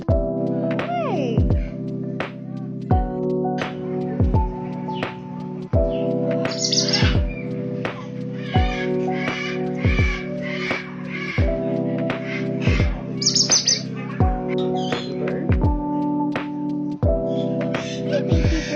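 Exotic birds at a sanctuary in Del Mar, California chirp and call in repeated bright bursts, with sharp clicks and occasional harsh calls over a steady tonal hum, close and fairly loud.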